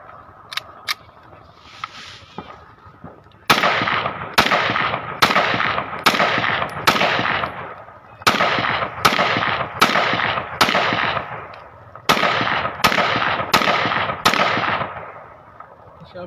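A Pakistani-made Beretta 92FS pistol is test fired outdoors: about seventeen loud, sharp shots in quick bursts with short gaps, echoing briefly, preceded by a few faint clicks and quiet background voices.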